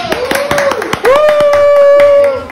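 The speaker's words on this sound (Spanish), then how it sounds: "Muchas gracias, aplausos." A few sharp hand claps at a family Christmas and birthday gathering at home, scattered over the first second, then a sustained voice carries on above fainter claps.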